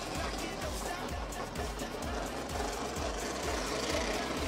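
Personal watercraft engines roar together at the start of a Pro Watercross race in St. George, Utah, a dense, loud, continuous mechanical drone with rapid pulsing throughout, mixed with crowd and commentator voices.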